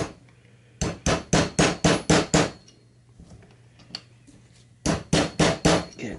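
A hammer striking a punch to drive the pin out of a 1970 Honda Z50A K1 motorcycle fork: a fast run of about eight sharp metallic blows, a pause with light clinks, then five more strikes, close and loud.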